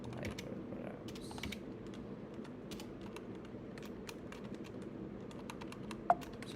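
Quiet, rapid typing of Python code on a computer keyboard, irregular clusters of soft key clicks over a low background hum, with one slightly sharper tap near the end.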